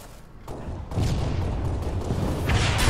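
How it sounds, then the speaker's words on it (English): A grenade explodes in a jetpack shooter video game as a single loud, broad boom that rumbles on for a couple of seconds. "I hit that kid with a nade."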